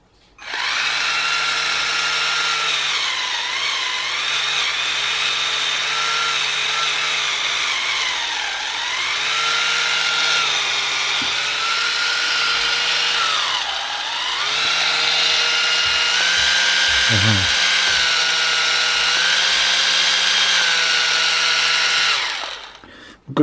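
Electric rotary grinding tool with interchangeable abrasive bits runs continuously with a steady high-pitched whine, its pitch dipping and shifting as it switches between its two speeds, loud and close with no talking.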